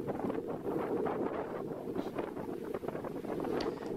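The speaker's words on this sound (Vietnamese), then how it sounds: "hôm nay uh, có gió cấp 5 có lúc cấp 6" Strong force 5 to 6 wind off Phu Quy Island roars steadily around a wooden-hulled purse-seine fishing boat heading out to sea, a loud continuous rush of gusty noise.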